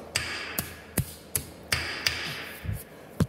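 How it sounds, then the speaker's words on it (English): Sharp metallic taps of a hammer popping out wire clips on a Jeep JK's rear end at an irregular pace, about a dozen hits over a few seconds, close up, with no talking. "you can just take a hammer and pop these out"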